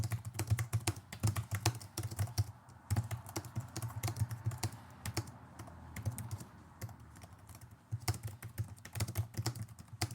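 Rapid, irregular clicking of computer keyboard keys, close and distinct, with brief pauses between bursts of typing and no voices.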